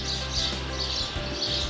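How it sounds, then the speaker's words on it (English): Birds nesting under a river bridge, faint scattered chirps over a steady low rumble of water and wind, heard from a kayak passing beneath. "Look at all the birds underneath the bridge."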